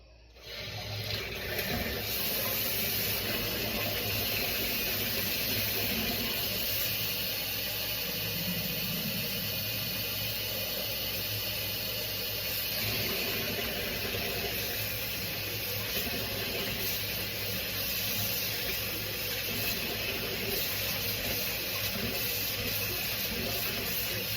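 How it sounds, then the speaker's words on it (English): Cold tap water runs steadily into a container being filled for a lavender sprite drink, a continuous close hissing rush with little change for the whole stretch and no talking. "I'm going to fill it up with cold water."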